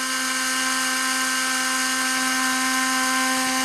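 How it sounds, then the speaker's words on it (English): A Canon Sure Shot 35mm film camera's motor rewinds the film with a steady, high-pitched whine that keeps a constant tone throughout, close and alone with no talking. "it's winding the film back past 1, back to S"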